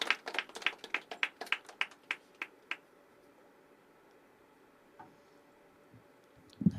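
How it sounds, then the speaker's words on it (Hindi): An open mic audience applauds a poet named Tushar: a short burst of sparse, sharp hand claps that thins out after a few seconds, leaving quiet room tone with an occasional faint tap. "तुषार के लिए तालियां बजती रहनी चाहिए दोस्तों एक बार।"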